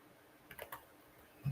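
A short burst of typing on a computer keyboard, with a few quick, quiet key clicks in a row.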